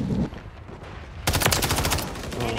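Rapid automatic gunfire in Call of Duty Modern Warfare III on the map Rust, a quiet moment broken by a loud, close burst of fast shots.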